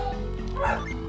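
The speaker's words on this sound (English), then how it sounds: "There is my dog singing the song of his people." In Golden Sun: The Lost Age, a video game dog gives one short yelping, wavering call over a steady droning game background.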